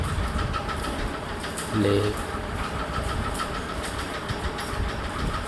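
A tractor-powered chaff cutter chops grass for cows and buffalo in a farm field, producing a loud, continuous mechanical rumble and rattle; someone speaks briefly over the machine noise.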